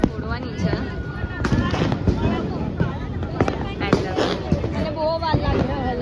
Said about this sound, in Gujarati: મોટા ટનક તારા ફોડવાની છે